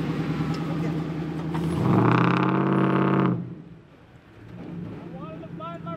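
A Toyota 4Runner engine crawling over rocks at Gunlock Falls swells into a loud, rough rumble for a second or two, then fades back, with people talking over it.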